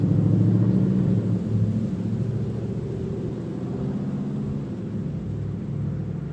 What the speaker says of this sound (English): wait, there's a truck.